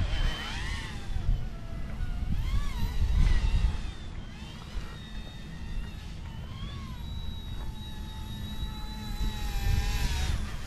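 Eachine E120 toy RC helicopter flying around outdoors, a steady whining rotor and motor buzz with pitch rising and falling as it speeds downwind and slows upwind, continuous and moderately near.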